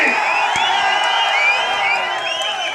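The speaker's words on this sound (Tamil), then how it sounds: "அப்படி ஆரவாரம் இதெல்லாம் கேட்டுட்டு இருப்பீங்க" Dense crowd roar and cheering at a political rally in Thoothukudi, a steady loud wash of many voices with scattered whoops and shouts, continuous throughout.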